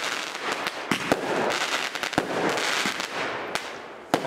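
Fireworks going off at an October 2019 display: a dense, loud crackling wash punctuated by sharp bangs, roughly a dozen of them at irregular intervals, with no voices.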